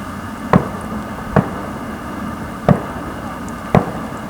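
Distant fireworks going off near a carp fishing lake, four separate sharp thuds spaced unevenly over a few seconds above a quiet outdoor background.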